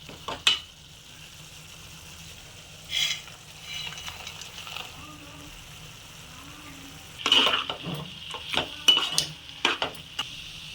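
Mutton pieces go into a hot pan with salt and chilli, giving a few sharp clatters and scrapes over a low, steady sizzle, with quiet pauses between the bursts of handling.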